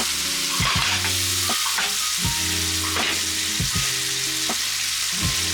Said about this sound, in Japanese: 他の具材も入れて軽く煽っていきます